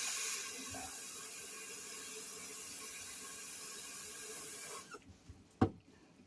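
Hot tap water runs steadily into a sink while spare ribs are washed, a broad continuous rush that stops abruptly near the end, followed by a couple of sharp knocks.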